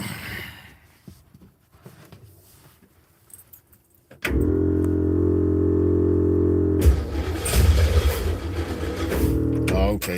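After a quiet stretch with faint rattling, an engine cranks with a loud, steady droning whir, then sputters and strains without settling.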